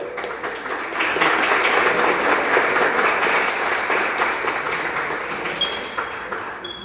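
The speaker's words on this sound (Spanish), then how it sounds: "Les pido un fuerte aplauso" Steady, full applause from an audience at a municipal cultural conference, loud and sustained for several seconds with no talking over it.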